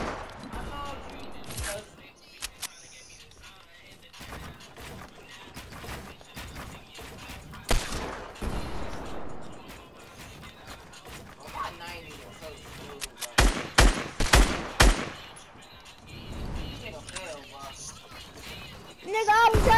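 Fortnite gunfire comes in scattered bursts, sharp cracks clustering loudly near the middle and end, separated by quieter stretches while players talk throughout.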